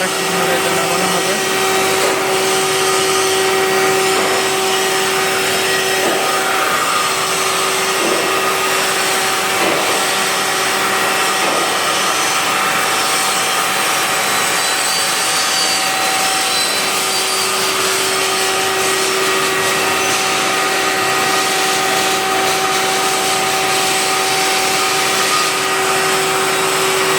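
A cutting machine, probably working wood, runs loud and steady with a constant high whine and rough broadband grinding for the whole stretch, with no talk over it.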